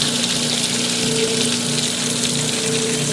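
Washing machine drawing in hot and cold water for a warm rinse, a steady rushing gush of inflowing water with a low pump-like hum, continuous and close.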